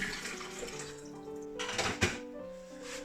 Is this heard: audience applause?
no